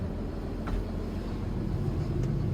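An agricultural machine's diesel engine idling steadily just after starting, a low continuous rumble with no voices.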